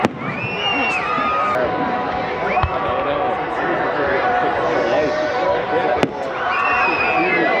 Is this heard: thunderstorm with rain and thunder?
no